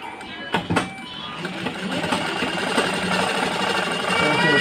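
A sewing machine stitches a blouse in a tailoring shop, running as a steady mechanical whir that builds and holds over a few brief knocks near the start.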